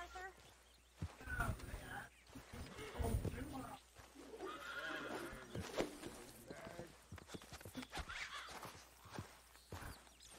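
A bucking horse whinnies and snorts in Red Dead Redemption 2 amid clattering hooves and shuffling, while someone talks over it close to the mic.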